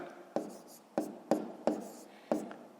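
A pen scratches out numbers on paper in five short strokes during a fifth-grade math lesson, each stroke a crisp attack that fades quickly, recorded close with no talk.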